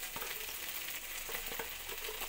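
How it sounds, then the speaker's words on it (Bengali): Spice paste of ginger, chilli and cumin fries in a pan with a steady, close sizzle, broken by a few soft stirring scrapes and no voices. "এরপর মশলাটাকে একটু ভালো করে ভেজে নেব"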